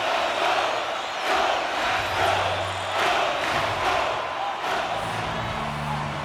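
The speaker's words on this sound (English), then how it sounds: "You can feel the energy in this crowd." A hockey game crowd in an arena cheers and roars continuously, a dense loud wash of voices with swelling surges and brief shouts, sustained throughout.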